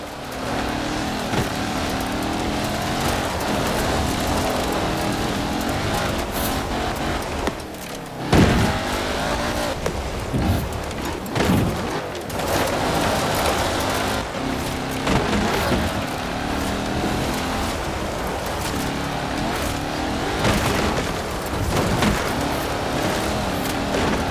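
Nemesis all-terrain supercar in the racing game Forza Horizon 4, a steady loud engine drone running throughout with a brief surge and bumps near the middle, no voices over it.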